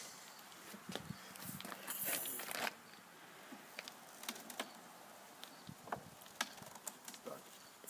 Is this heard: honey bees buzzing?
yes